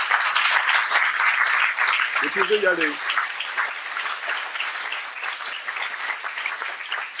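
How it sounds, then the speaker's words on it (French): Warm audience applause for a school director at a lycée building inauguration, steady crowd clapping throughout with a brief spoken voice over it partway. "Vous pouvez l'applaudir chaleureusement"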